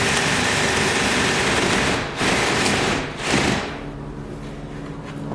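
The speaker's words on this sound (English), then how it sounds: "we're going to go ahead and take our 1-inch spade bit and just finish that hole" A power drill with a 1-inch spade bit bores a deep deadbolt hole in a door, a loud continuous grinding whir that briefly dips twice before settling into a steady run.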